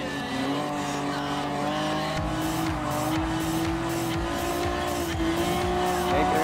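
A first-generation Honda NSX Type R drifts in Gran Turismo Sport, its engine droning loudly as the tires squeal and skid through repeated slides.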